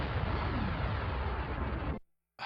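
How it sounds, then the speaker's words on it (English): A retro Bomberman-style shareware game bomb explosion: one loud, dense blast of noise lasting about two seconds, cutting off abruptly into brief silence before another burst begins. "The bomb explosion doesn't linger very much."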